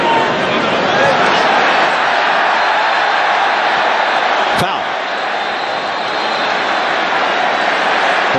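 Dense stadium crowd roar at an Arsenal vs Chelsea football match, a steady loud wash of cheering and noise with a sharp thud partway through, sustained throughout.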